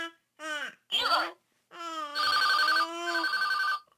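A toy telephone plays a bright electronic ringing melody in short bursts, loud and close, with a voice talking and a baby babbling between the rings.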